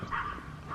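Dogs bark indoors in a brief, muffled burst heard from a little distance, a single short smeared cry against room noise, with no speech.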